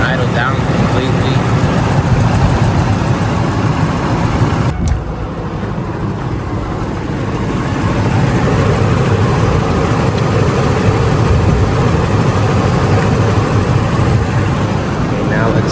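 Ford Expedition engine idling roughly with a slight misfire, a steady close rumble running throughout with a brief dip midway, while someone talks over it.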